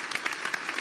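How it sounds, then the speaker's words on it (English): A short burst of crowd applause, a steady patter of many hands clapping at moderate volume with no voices over it. "Thank you for the applause"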